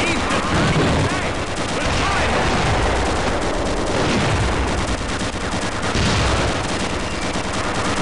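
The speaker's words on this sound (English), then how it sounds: "Crouch key to fire the machine guns." Tank machine guns fire in the video game Gunman Chronicles, a loud, continuous rattle of rapid gunfire with bursts of explosions, densely layered throughout.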